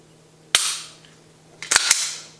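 A pistol fitted with a Ghost Inc spring kit, 25% trigger return spring and Ghost connector has its slide racked with one sharp metallic clack, then two quick crisp clicks follow about a second later, close and loud.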